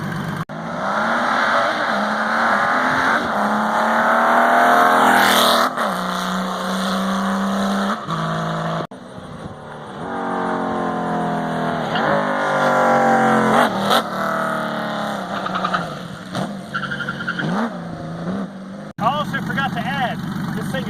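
A 1998 Honda Valkyrie GL1500CT motorcycle engine drones and revs up and down repeatedly, rising and falling in pitch as it rides along a road, loud and fairly close.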